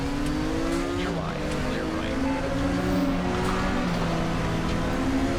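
Nissan Skyline race car in the Raceroom racing game at Sonoma, its engine droning and rising steadily through the whole stretch, mixed with other cars around it and a faint squeal of tires.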